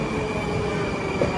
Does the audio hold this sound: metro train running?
yes